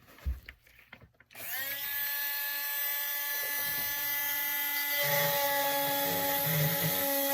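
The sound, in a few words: trimming clear plastic Essix retainer with round burr drill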